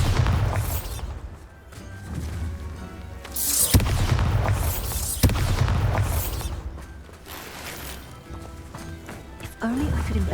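A Bombarda blasting spell detonates in Hogwarts Legacy, with booming explosive bursts and rumbling debris amid busy game effects and a speaking voice.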